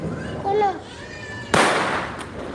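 A single sharp firecracker bang bursts out loudly mid-clip during Diwali celebrations, following voices talking and calling out, with a short noisy tail afterward.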